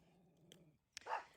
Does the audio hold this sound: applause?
no